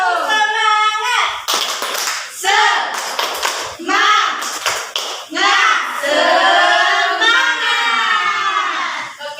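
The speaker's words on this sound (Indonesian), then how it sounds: "coba kita tepuk semangat" A class of young schoolchildren performs a rhythmic clap chant, bursts of hand claps mixed with loud, excited children's voices and a teacher speaking, all close and energetic.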